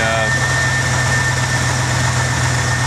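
A 1976 Chevy C30 dually engine idles while warming up with its choke on, a loud, steady low hum and rumble that runs unbroken and close up throughout.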